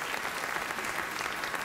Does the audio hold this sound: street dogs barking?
no